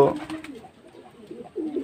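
Pigeons give soft, low cooing close by in a brief burst, a few murmuring coos rising and falling.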